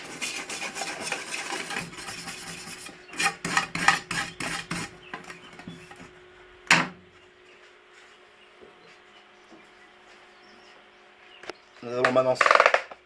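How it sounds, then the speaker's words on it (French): A wire brush scrubs a fresh MIG weld made with a Telwin MIG 180A welder, giving bursts of scratchy rasping strokes separated by pauses, close and moderately loud. "Donc après on met un coup de brosse dessus."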